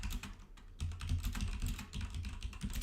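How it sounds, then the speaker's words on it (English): Fast, continuous typing on a computer keyboard, with dense overlapping key clicks and clacks at close range, rapid and uneven in rhythm, with no voices. "you can hear the typing"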